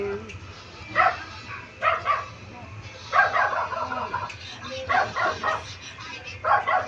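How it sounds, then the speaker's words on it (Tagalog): A dog barks in short bursts of two or three yips, recurring about every second or two, moderately close amid low household background hum. "Ingay ng aso rito, nakakainis."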